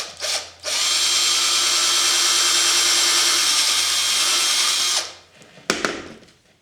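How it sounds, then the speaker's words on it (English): A power drill bores a hole for a dowel in a carved wooden figure's body. It whines loud and steady for about four seconds, then winds down and stops, followed by a sharp clatter. "right there is where I want to drill my hole for the body"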